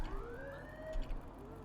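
A police siren wails in Cyberpunk 2077, a rising electronic tone sweeping upward over a low engine hum, heard alone without voices.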